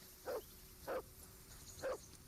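Dog barking in the medieval action game Kingdom Come: Deliverance II, three short, evenly spaced barks at moderate distance over a quiet background hum, with no talk.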